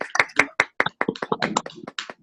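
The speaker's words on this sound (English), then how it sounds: "you got some rounds of applause there" A few people clap during a business webinar, giving sparse, uneven, close-up claps that come in quick separate bursts for about two seconds.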